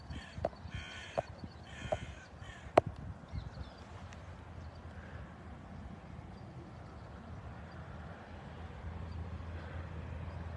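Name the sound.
flock of birds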